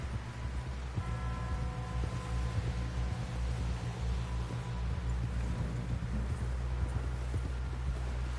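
Horse hooves clip-clop steadily in Red Dead Redemption 2 as a rider pushes toward a camp, the rhythmic hoofbeats running throughout beneath a constant rain-like wash of ambient noise and a few faint tonal notes.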